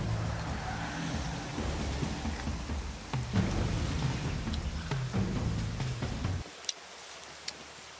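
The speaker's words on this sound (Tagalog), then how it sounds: "lakas ng ulan guys" Heavy rain pours steadily outdoors with a low rumble of thunder underneath, a dense continuous wash that cuts off abruptly near the end, leaving a few faint drips.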